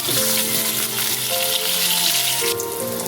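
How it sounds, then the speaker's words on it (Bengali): Pointed gourd fries in oil left over from frying rohu fish, giving a loud, constant, close sizzle with a faint background tone running throughout. "মাছগুলো ভেজে তুলে রেখে ওই তেলেই পটলগুলো ভেজে নিচ্ছি"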